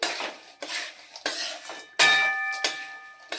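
Metal utensil scraping and clinking against a pan in several short bursts while a spice-powder mixture for gundar pak is stirred, with a faint ringing tone, close and moderately loud.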